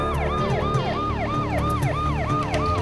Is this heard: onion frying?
no